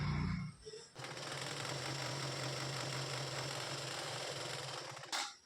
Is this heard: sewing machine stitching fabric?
yes